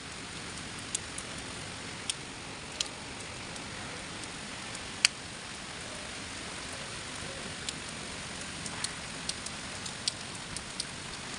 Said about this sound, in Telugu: ఇప్పుడు ఎంత పెద్ద వర్షం పడుతుందో చూడండి